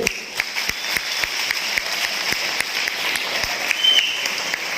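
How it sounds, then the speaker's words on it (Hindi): Loud, sustained applause fills a hall at a business celebration event in Hisar, with dense clapping throughout and a few sharper claps standing out, no talk over it. "एक बार जोरदार तालियां हैं सबके लिए।"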